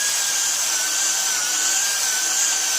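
A spinning power sander works over a cloudy plastic car headlight during restoration, giving a steady, even whirring hiss with a thin tonal whine, constant and close throughout with no talk.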